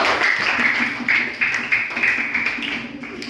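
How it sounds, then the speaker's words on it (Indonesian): A classroom group of students at a coding and artificial intelligence training session claps for a few seconds, scattered uneven hand claps, fairly close and moderately loud. "beri tepuk tangan untuk kelompok 1"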